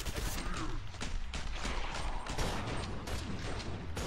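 Rapid, loud bursts of gunfire in Killing Floor 2 hammer out in a dense, irregular volley with mechanical clatter between shots, close and continuous, with a faint voice underneath.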